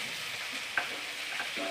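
Fish fries in hot oil in a home kitchen pan, a soft steady sizzle with a few light scrapes of stirring, fairly faint and without talk.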